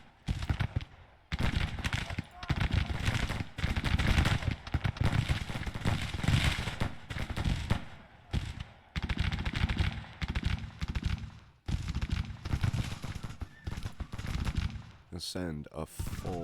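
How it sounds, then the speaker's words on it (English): Massed rifle volleys from Civil War troops in a Grand Tactician battle at Spotsylvania crackle in dense, sustained bursts, loud and continuous, with brief lulls and someone talking over the gunfire. "We are firing on them as they come out."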